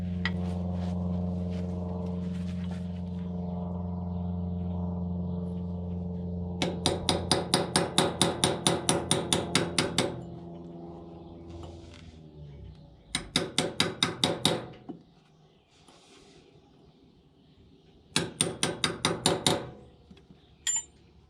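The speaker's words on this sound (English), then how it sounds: "I'm gonna go ahead and get both of this other cover knocked off" Sharp metallic hammer blows knock the covers off trailer wheel bearings, coming in three quick rapid-fire bursts of ringing strikes after a steady low hum, loud and close with no talking.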